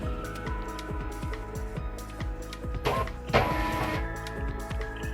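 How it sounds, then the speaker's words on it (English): A MUNBYN RW4 thermal printer runs a print job, a steady close mechanical whir with fine rapid ticking pulses throughout, and a brief louder burst of feed noise near the end. "I'm gonna go ahead and click print."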